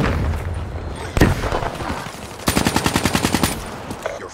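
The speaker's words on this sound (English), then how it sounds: "Oh, it was a grenade launcher." Black Ops 3 multiplayer Kill Confirmed match: a sharp blast near the start, then a rapid run of about ten even, punchy shots fired in quick succession, followed by a single fainter report, all at moderate loudness with no talk.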